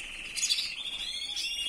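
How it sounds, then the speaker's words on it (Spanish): A canary in an aviary sings with a bright, metallic timbre, in continuous high trills and chirps that swell in two bursts, moderately close and heard alone. "Es el mejor metálico, timbre metálico que hay en el aviario, el de ese pájaro."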